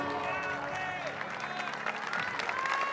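An outdoor crowd in a Venetian piazza applauds at a festive gathering, a fairly faint, continuous wash of clapping with a voice speaking over it throughout.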